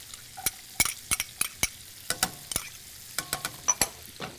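Bacon and onions frying in a pan for a Bavarian dish, heard as a soft background sizzle with repeated sharp clinks and scrapes of a utensil stirring, spaced irregularly and fairly close.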